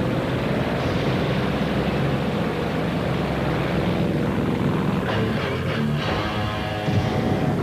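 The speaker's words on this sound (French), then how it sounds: "L'avion!" A propeller airplane drones loudly and steadily overhead throughout, its engine roar filling the scene, with some clattering activity near the end.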